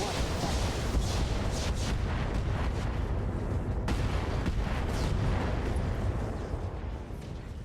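Rapid Artemis-guided SRM missile volleys from a Pirate Vulture Mk II battlemech, a dense rolling string of explosive bursts and booms with repeated sharp impacts, fading slightly at the end.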